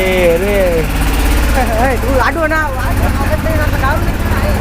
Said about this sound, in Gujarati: આ રેલગાડી એવી છે જે ટ્રેક્ટરમાંથી રેલગાડી બનાવી